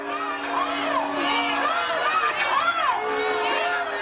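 Crowd at an anti-Islam demonstration, children among them: a dense, steady roar of many voices with shouts and raised cries rising over the mass, loud and continuous throughout.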